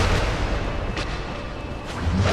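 A loud, rumbling blast echoes from a fiery boss fight in Dark Souls, a dense low boom filling the whole stretch with a couple of sharp whooshing hits partway through.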